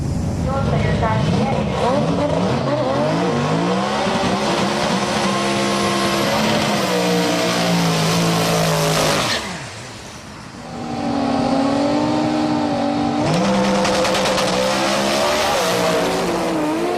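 A twin-turbo Toyota V8 Supra drag car with custom chassis, composite body and air-shifted transmission roars loudly down the strip at a Sendai drag event, engine pitch climbing through gears, dipping briefly near the middle, then surging again.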